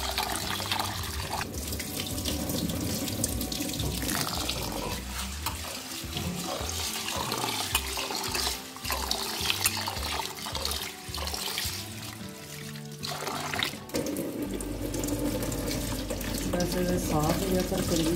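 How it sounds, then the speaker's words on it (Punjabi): Pearl millet (bajra) being rubbed and rinsed in water, with running water splashing steadily throughout and a heavier gush of water toward the end. "ਚੰਗੀ ਤਰ੍ਹਾਂ ਮਲ ਕੇ 3-4 ਪਾਣੀ 'ਚ ਧੋ ਲਓ"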